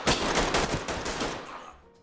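Rapid gunfire in the tactical shooter game Ready Or Not, a loud burst of repeated shots in quick succession that fades out near the end.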